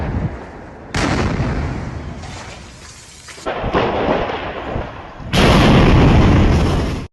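Loud, dense bursts of crackling and booming New Year's Eve fireworks and firecrackers in Germany, continuous and overlapping, going off nearby, swelling louder toward the end.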